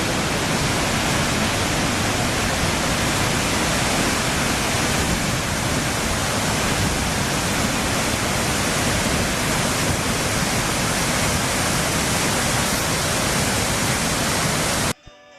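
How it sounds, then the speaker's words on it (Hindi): Saraswati river flowing, a loud continuous rush of water with dense, even noise that holds steady throughout and cuts off abruptly at the end, with no voices. "सरस्वती नदी बहती है।"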